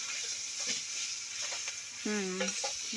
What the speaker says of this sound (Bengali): তেলেতে আমরা তেজপাতা দিয়েছি আর পেঁয়াজ দিয়েছি, দিয়ে এবার ভাজা করছি আমরা।